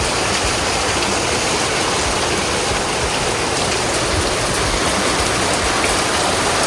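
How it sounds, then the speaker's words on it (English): Heavy rain falls outside an exterior door onto wet ground, a dense, constant roar of drops with no breaks and no voices. "it's certainly raining out here right now"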